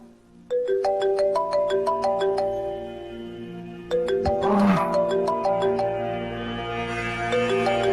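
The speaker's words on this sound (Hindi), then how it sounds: "रेमो, रेमो, फोन आ रहा आपका।" A mobile phone ringtone plays a repeating melodic chime sequence, clear and fairly loud, starting after a brief pause and restarting partway through, with a short rustle or thud in between.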